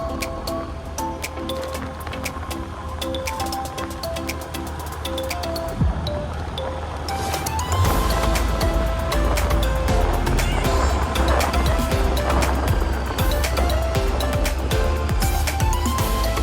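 A car cruises steadily along a road on the way from Mumbai to the Ellora ghats, with engine and road rumble growing louder and denser about halfway through and continuing unbroken.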